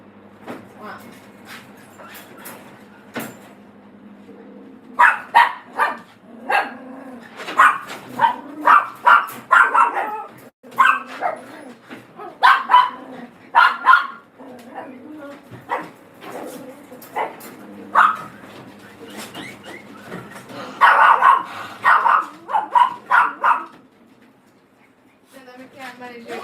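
A dog barks and yips excitedly in bursts at close range, mixed with a person talking over it.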